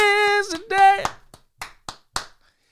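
A singing voice fades out, then hands clap about five times in a loose, slightly irregular rhythm, sharp and close with quiet gaps between them.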